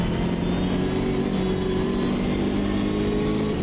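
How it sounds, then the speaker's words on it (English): A race car engine revs and accelerates in the driving game Automobilista 2, a continuous loud, steady engine drone with rising tone and no speech over it. "The car sounds great."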